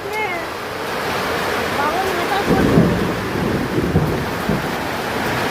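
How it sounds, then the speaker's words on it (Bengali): Heavy morning rain roars steadily with thunder rumbling underneath, the low rumble swelling midway through; a faint voice is briefly heard at the start. "এত বৃষ্টি হচ্ছে এই সকালবেলা,"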